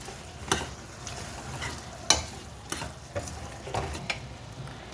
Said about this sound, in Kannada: ಎಲ್ಲ ಚೆನ್ನಾಗಿ ಈ ಥರ ಮಿಕ್ಸ್ ಮಾಡಬೇಕು